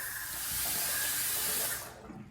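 Water runs steadily from a tap with a bright hiss, then cuts off near the end, leaving quiet room sound.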